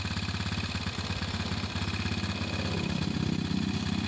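A motorcycle engine idles steadily during a stator test after a new battery and regulator, its close, even putter running throughout with no talk.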